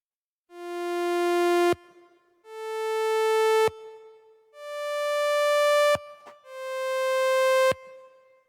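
Four sustained synthesizer notes in a row, each swelling in more slowly than the last as the attack time increases, then cut off sharply, bright and buzzy tones with a soft background noise between them.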